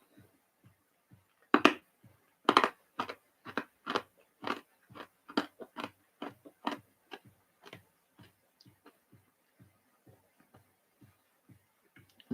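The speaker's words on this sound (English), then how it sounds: "Not a bad crunch either." A candy cane is bitten and crunched in a steady run of sharp, close crunches, loud at first and then fading into lighter chewing clicks, with no talking.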